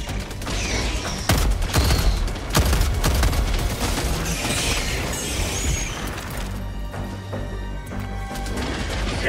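Grenade blasts in Helldivers 2 burst out as a series of sharp booms and crashes amid gunfire, loud and dense over several seconds before the chaos thins to scattered shots.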